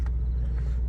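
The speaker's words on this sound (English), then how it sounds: "this has got a little more of an exhaust note to it now" Car exhaust in Sport Plus driving mode, a deep steady low rumble, loud and close, held without change for under a second and with no talking.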